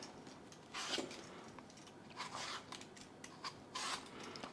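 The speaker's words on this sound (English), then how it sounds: "So we'll just go this way, peeling straight down like this," An apple being peeled straight down with a knife, soft scraping and crisp rasping strokes in short bursts, faint and close with no talking.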